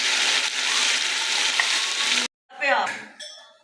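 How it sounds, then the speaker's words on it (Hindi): Potato and cauliflower curry fries in a pan with a steady, loud sizzle for about two seconds, then cuts off abruptly, followed by brief clinking and stirring sounds. "2 से 3 मिनट तक हमने अच्छे से भून लिया है"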